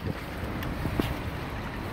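A boat motors across open water, a quiet steady low rumble mixed with wind buffeting the microphone and faint water sounds, with a couple of soft knocks and no talk.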